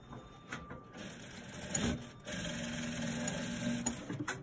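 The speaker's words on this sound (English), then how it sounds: "I'm going to sew from here now." A sewing machine stitches an elastic band onto trousers, running in bursts with a brief pause between them, its steady mechanical whir fairly close and moderately loud, with no speech.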